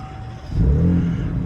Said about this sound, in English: Okay, so let's start her up. Gonna hit that button.